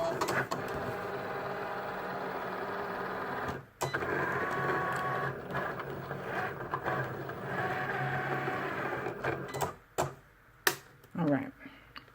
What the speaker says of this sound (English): I'm going to go ahead and let my Cricut cut this